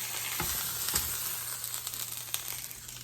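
Chicken sizzles and crackles steadily in a hot pan, with a few soft scraping and stirring noises, close up and with no voices.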